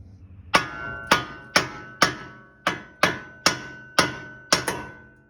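Nine sharp hammer strikes ring out at a steady, roughly half-second rhythm, each a loud metallic whack with a brief ringing decay, knocking loose a suspension part on a Ford Lightning pickup during a leveling lift kit install.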